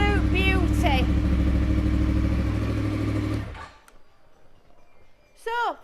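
A 2011 Yamaha R1 with a crossplane crank engine and Akrapovic exhausts revs loudly and close up, holding a steady, rumbling roar for about three seconds before it cuts off. Quieter mechanical ticks follow, and a brief voice speaks near the end.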